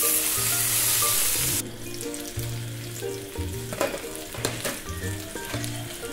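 Chicken chapli kebabs fry in a pan with a steady, loud sizzle that softens after the lid comes off, broken by occasional clinks and scraping as the kebabs are turned.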